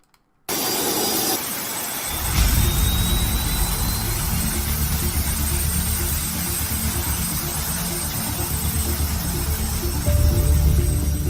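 A jet pack suit's engine roars loud and steady after a sudden start, a broad rushing drone with low rumble that swells again near the end.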